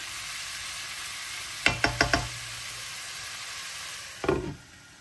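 Cumin and coriander powder stirred into bottle gourd cooking with shrimp under a soft steady sizzle, with four quick scraping knocks of a spoon against the pan and another louder scrape near the end.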